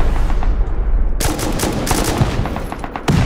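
Rapid gunfire in the survival game Rust during a large clan raid on a server, bursts of close, loud shots crackling continuously after a quieter opening second, with a fresh burst at the end.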